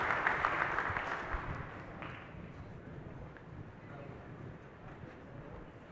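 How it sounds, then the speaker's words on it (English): A workshop audience claps for themselves, a brief burst of applause that quickly fades into rustling and the shuffle of people sitting down, with low murmuring voices. "So give yourselves a round of applause and go ahead and sit down."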